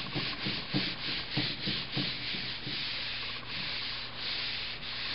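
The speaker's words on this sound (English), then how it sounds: "I'm going to push down on it, and I'm going to rub it." Paper being rubbed evenly by hand over an inked printmaking plate, a close, steady scraping swish that pulses in short rhythmic strokes at first and then settles into a continuous smooth rub.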